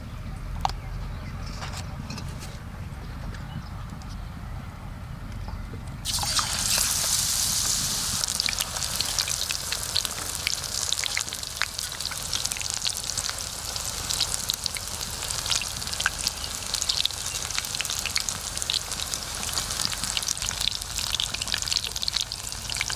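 Pumpkin slices dipped in gram flour batter with rice flour hit hot oil in a pan, bursting into a loud, dense, steady sizzle that continues close up for many seconds after a quieter start.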